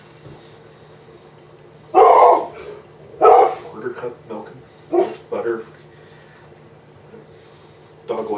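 A dog barks in a home kitchen: a few loud, sharp barks close by, followed by softer yips, with a person talking in between.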